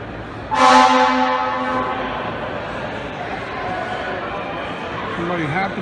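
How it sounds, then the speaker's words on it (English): A Rosenbauer tower ladder fire truck sounds a loud air horn in one sharp harmonic blast that fades over a second or two. Engine rumble continues underneath, and a voice is faintly heard. "Somebody have to blow an air horn."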